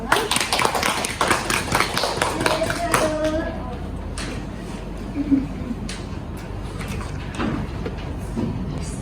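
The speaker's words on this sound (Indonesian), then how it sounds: "tepuk tangan dulu ya" Classroom students applaud a student group in a noisy room. A few seconds of dense clapping are followed by scattered taps and background chatter.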